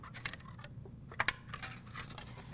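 Scissors snip through paper for paper tole, a scattering of short crisp cuts with a couple of louder snips, close and quiet over a low room hum.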